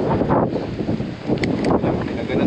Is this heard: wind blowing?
yes